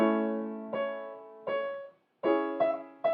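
A piano plays a short progression of chords, about six struck in turn with brief pauses, each left ringing, played alone.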